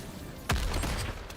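Gunfire rings out in Mortal Kombat 1: a sharp shot lands suddenly partway through, followed by a rapid burst of further shots over a busy game mix.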